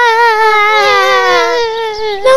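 An animated children's story features loud, high, sustained crying that wavers in pitch, one continuous wail with a brief break at the end.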